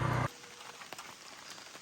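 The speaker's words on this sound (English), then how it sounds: "And it's raining." Steady light rain patters on the outside of an EKKO camper van in Newfoundland, a soft continuous hiss with scattered droplet ticks after a brief louder knock at the start.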